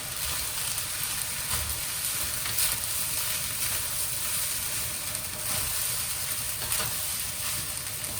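BBQ pork char siu fried rice sizzles steadily in a hot pan while being stirred and mixed, a loud, continuous frying hiss with no talking.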